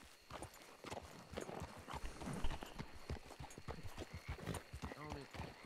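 Horse hooves clip-clop at a walking pace, steady and fairly close, with people talking in French over them and a brief whinny near the end.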